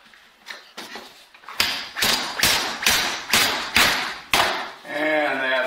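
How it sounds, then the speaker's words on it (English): A tightened wet canvas being thumped like a drum, about eight sharp, resonant thuds in a fairly even rhythm, close and clear, with a brief voice at the end. "you can give it a thump. It's like a drum."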